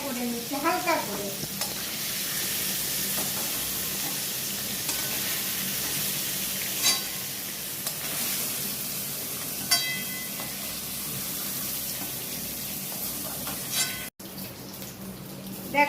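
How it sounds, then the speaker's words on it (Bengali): Cubed paneer seasoned with salt and turmeric fries lightly in white oil, giving a steady, even sizzle throughout with occasional soft clinks of a utensil against the pan. "আমি পনিরটা কেটে ভালো করে নুন আর হলুদ দিয়ে একটু সাদা তেলে ফ্রাই করে নিচ্ছি হালকা করে"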